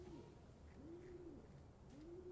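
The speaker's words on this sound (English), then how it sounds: "The pigeon is making so much noise." A pigeon coos in a steady repeating pattern of soft, rounded calls, three phrases spread evenly across the stretch and set against a constant low hum of background noise.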